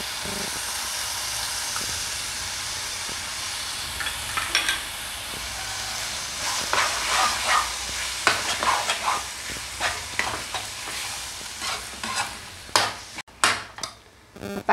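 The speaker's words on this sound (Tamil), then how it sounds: "முட்டை ஊற்றிக்கிறேன்." Egg batter poured into a hot pan with coriander leaves and curry leaves, sizzling and hissing steadily in the foreground, with sharp crackles and spatters growing denser toward the end.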